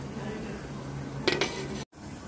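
Lid placed onto a pot of steaming pichi-pichi, heard as a brief metallic clatter against a steady low background hum, followed by a short dropout.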